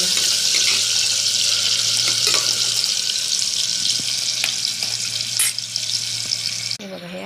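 Chopped onion and tomato fry in a pan, a continuous bright sizzle with occasional stirring clinks and a low steady hum, running alone without talk.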